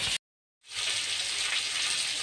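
Rui fish pieces frying in hot oil, a dense, even sizzle that bursts in after a short silence and holds steady and close to the end.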